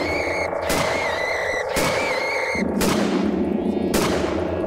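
Gunfire from the video game The Glass Staircase: a few loud, sharp reports at roughly one-second intervals. They crack over a steady bed of tonal game music and ambience, with no voices in between.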